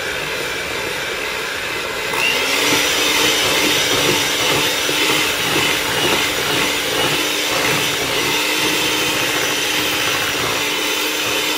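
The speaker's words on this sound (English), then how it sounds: "definitely use your hand mixer." An electric hand mixer whirs through sweet potato corn bread batter, starting after a quieter moment and running as a steady, loud motor drone up close.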